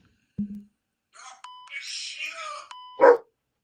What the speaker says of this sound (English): And that my dog's barking at that's that.